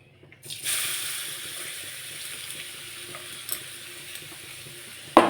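Grated carrots dropped into hot ghee in a pan begin frying with a steady, close sizzle, punctuated by a few sharp clinks and scrapes of a spoon against the pan.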